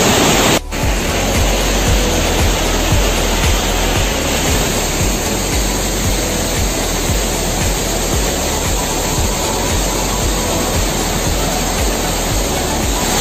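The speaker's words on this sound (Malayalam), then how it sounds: "നല്ല ലെങ്തുള്ള ഒരു വെള്ളച്ചാട്ടമാണത്." A long waterfall deep in a Kerala forest on the way to Podiyam pours steadily over slippery rock, a loud, unbroken broadband roar that holds constant for the whole stretch with no voices.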